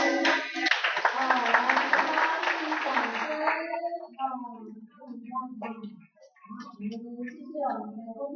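Children's performance at a scripture-reading teacher training camp ends in a burst of dense clapping from an audience for about three seconds, then gives way to talk.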